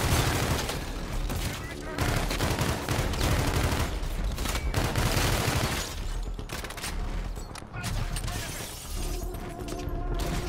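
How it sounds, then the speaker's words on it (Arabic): Dense, loud gunfire from Call of Duty: Infinite Warfare, with sustained automatic bursts and explosive cracks running through the whole stretch, mixed with game sound effects and players talking over it. "اوه في رصاص."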